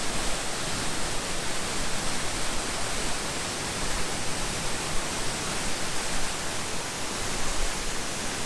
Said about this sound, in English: this is probably the most intense waterfall I've ever seen